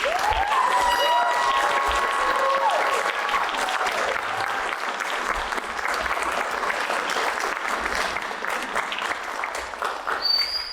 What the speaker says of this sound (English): Can we please give our graduates another round of applause?